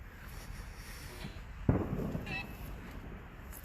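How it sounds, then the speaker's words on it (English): Fireworks go off in the distance as a single muffled boom with a short rumbling tail, heard outdoors against steady background noise. "Oh, fireworks going off as well."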